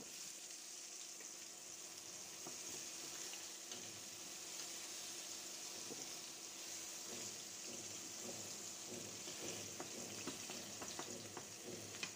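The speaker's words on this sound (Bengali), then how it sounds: "এক খোলা ভেজে উঠিয়ে নিয়েছি, আরো একবার দিলে বেগুন ভাজা শেষ হবে" Eggplant slices fry in a pan with only a little oil, giving a steady, soft sizzle and crackle. It runs evenly throughout, with faint scattered pops and no voices.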